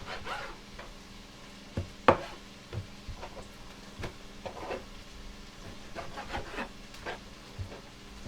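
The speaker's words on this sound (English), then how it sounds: "So now I just need to chop these down." Knife chopping beef shin into chunky pieces on a board, quiet irregular thuds and taps spaced across the stretch, close by and alone.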